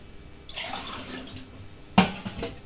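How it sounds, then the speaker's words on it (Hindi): Water poured from a glass into a cooking pot of soaking whole moong dal, a close splashing pour that swells and trails off, followed by a sharp splash and a smaller one. "3 गिलास मैंने पानी डाला है"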